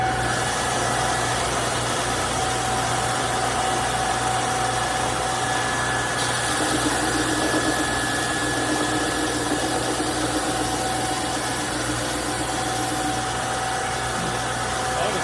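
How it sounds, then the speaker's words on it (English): A dust collector runs steadily in a mandolin workshop, a constant loud mechanical drone with a hum, unbroken throughout with no speech. "turn on the dust collector here"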